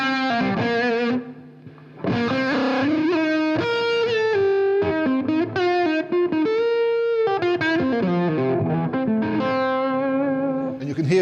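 An electric guitar fitted with a switchable, splittable EMG 89 humbucker plays through heavy high-gain distortion, with sustained chords and lead notes ringing out and a short gap near the start.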